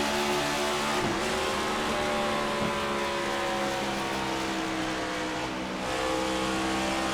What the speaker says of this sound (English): I love hearing that downshift.